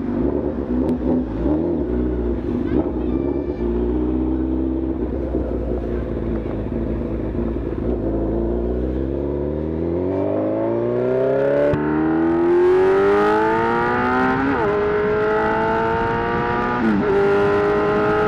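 A Kawasaki Versys 1000 SE motorcycle rides off, its engine droning loudly and rising in pitch through successive gear shifts as it accelerates away, heard alone without talk.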